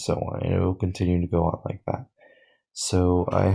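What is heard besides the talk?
No everyday noise stands out behind the speech.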